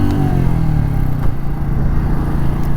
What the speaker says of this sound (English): So revving that in first